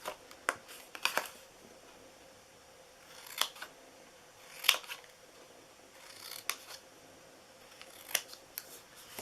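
Scissors snip through paper while the sides of a Christmas snowman paper box are cut, giving faint, close, irregular crisp clicks and short bursts with quiet pauses between.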